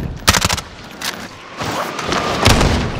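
Call of Duty Warzone gunfire: loud, close bursts of automatic shots and heavy booms crowding together over continuous battle noise.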